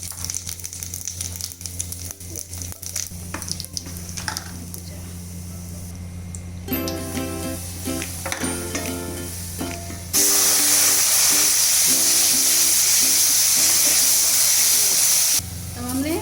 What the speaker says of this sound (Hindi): सबसे पहले हींग, उसके बाद हम तेजपत्ता डालेंगे और जीरा डालेंगे।